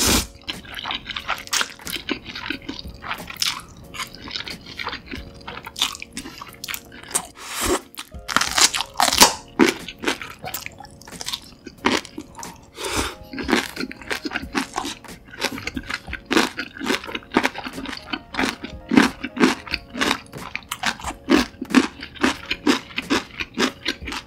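Steady close-up crunching and wet chewing of crispy homemade spicy sauced fried chicken, loud rhythmic bites with sticky squishes and no talk.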